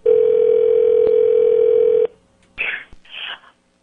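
A telephone dial tone from a prank call hums loud and steady for about two seconds, then cuts off abruptly, leaving a brief pause and a couple of short, muffled bursts of sound.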